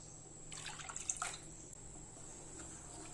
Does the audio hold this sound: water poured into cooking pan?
yes